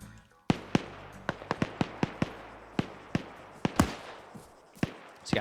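Grenade launcher blasts and impacts in a PvP first-person shooter match, a rapid irregular series of sharp cracking bursts, some near and loud, others farther off, with no voices over them.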